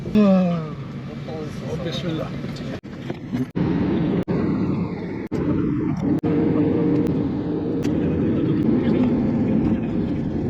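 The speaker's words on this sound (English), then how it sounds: "so we've made it on the plane" Constant broadband roar of an airplane cabin during a four-hour flight from London to Istanbul, with a brief voice and a few clicks and bumps over the steady engine drone.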